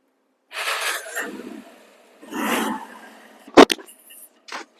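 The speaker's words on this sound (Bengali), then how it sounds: "সাইলেন্সারের মুখ থেকে গর্জন বা ম্যাগের মতো ডাক কি পরিমাণ আপনারা একটু দেখেন" A second-hand Bajaj Discover 135cc motorcycle revving at the exhaust, with two short throaty bursts that rise and fade, followed by a sharp click and a faint final blip.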